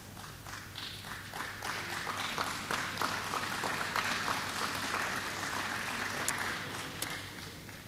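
An audience in a church service applauding, a steady patter of many hands clapping at moderate distance, fairly even throughout with a low hum underneath.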